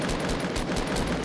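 Gunshots fired at an opponent in Fortnite, a quick, dense run of close, loud shots packed into a short burst with no pauses.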